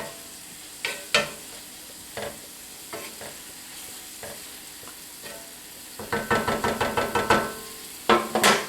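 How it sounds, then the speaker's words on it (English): A cast iron pan of dirty rice and beans simmers with a soft sizzle while a utensil scrapes and taps against the pan, sparse strokes at first, then a quick run of stirring clatter near the end. "Now I'm going to let this all simmer together."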